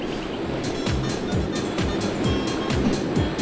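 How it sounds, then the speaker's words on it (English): A rushing waterfall in the Ty the Tasmanian Tiger video game, a steady full-bodied roar of water that runs the whole time, with softer thumps from game action on top. "There's always something behind the waterfall."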